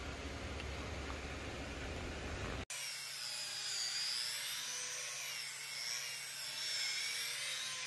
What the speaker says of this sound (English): So we're sanding. I'm doing a 220 on this